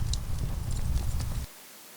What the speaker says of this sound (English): the noise made now and again by the donkey stamping its hooves on the ground